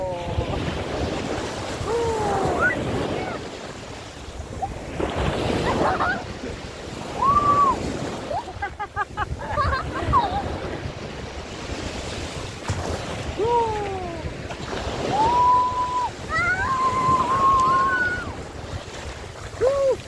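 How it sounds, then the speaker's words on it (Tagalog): Sea waves slosh and lap against the side of a boat during an island-hopping tour off Subic, Zambales, with steady wind noise and people talking over the water throughout. "Maalon yan, maalon, no? May kunting alon sa gilid."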